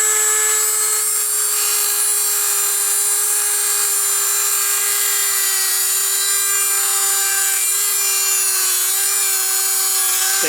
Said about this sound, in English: we're going to try to cut this 6203 bearing off